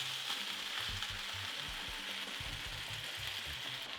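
Mushrooms sizzle and fry after being added to a hot pan already used for beef, a steady close crackling hiss with a low clattering underneath and no talk.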